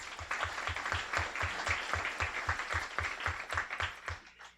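An audience at a guide dog graduation claps steadily, producing a broad, even wash of applause that holds at a fairly constant level before tapering off at the end.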